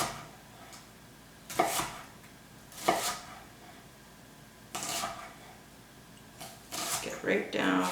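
Knife thinly slicing an onion on a cutting board: a few sharp, separate cuts and board knocks at uneven intervals, close and clear over a quiet kitchen background.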